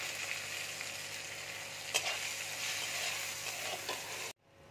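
Spices, chopped green chilli and turmeric frying in mustard oil for a sweet-and-spicy eggplant curry, a steady close sizzle with brief stirring scrapes that cuts off abruptly near the end.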